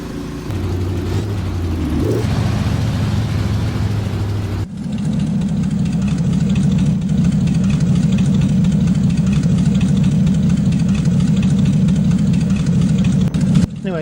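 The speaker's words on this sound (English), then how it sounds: "that's my first attempt at the Ford 534 cubic inch V8 Beast engine" A Ford 534 cubic inch V8 truck engine in American Truck Simulator idles with a loud, deep, steady rumble that shifts character partway through and then holds a rough, even idle to the end.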